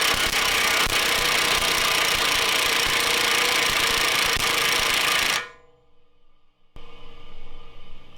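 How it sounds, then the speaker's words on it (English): An impact wrench spins the wheel hub of a W204 Mercedes C63 AMG with a bad wheel bearing, a loud continuous whirring roar with grinding undertones that cuts off sharply after five seconds, leaving faint background noise. "take this impact wrench, put it on the center spindle nut,"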